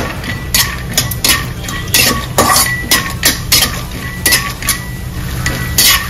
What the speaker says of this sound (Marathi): शेंगदाणे थोडे तळून घेते।